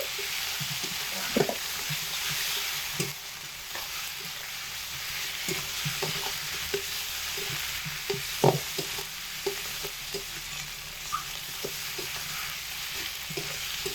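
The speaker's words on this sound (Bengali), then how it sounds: "এর মধ্যে ভেজে রাখা আলুগুলো দিয়ে একসাথে খুব ভালোভাবে দু মিনিট সময় ধরে কষিয়ে নিচ্ছি" Fried potatoes and egg omelette are stir-fried together in a pan, a continuous close sizzle with frequent sharp scrapes and taps of the spatula throughout.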